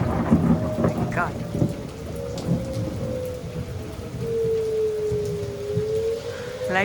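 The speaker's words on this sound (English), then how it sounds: "Lightning and thunder." Thunderstorm during a tornado warning, with steady rain pattering on surfaces and low rolling thunder throughout, while a long rising and falling warning tone, like a distant siren, sweeps across the middle.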